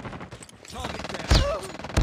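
Gunfire in the mobile shooter Call of Duty Mobile: a few bursts of shots in short succession, with a louder close blast near the middle and another at the end, mixed with game effects and voice callouts.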